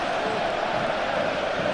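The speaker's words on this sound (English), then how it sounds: "the crowd are loving this one" Loud football stadium crowd at a Borussia Mönchengladbach versus Bayern Munich match, a thick continuous roar of cheering fans filling the short clip without a break.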